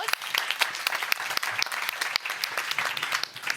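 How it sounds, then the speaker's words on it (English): A big round of applause from a small group, close, quick uneven clapping filling the whole stretch with no talk over it. "yeah, it's a big round of applause"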